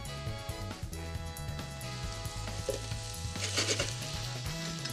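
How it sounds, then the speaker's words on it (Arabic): Onion, garlic, celery and carrot sauté in a pot for vegetable freekeh, giving a steady close sizzle with a faint crackle throughout, over low background music and with no talking. "وباقي المكونات رح نشويهم شوي"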